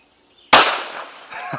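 A single sharp gunshot from a Ruger RXM pistol fitted with an Osight SE red dot at an outdoor range, close and loud, followed by a short fading tail and a faint clatter.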